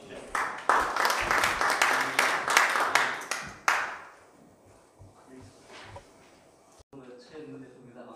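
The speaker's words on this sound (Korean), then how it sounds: "큰 박수를 맞아주시죠." Loud clapping from a crowd fills the first few seconds, then fades into scattered claps and room noise.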